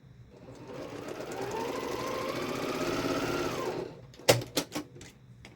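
A sewing machine stitches quilt block pieces in one steady run of several seconds, then stops, and a few sharp knocks and clicks follow close by.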